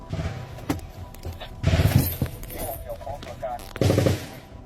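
Automatic gunfire in an assault on a base rattles out in two loud, close bursts with scattered shots between, while voices are heard around the firing.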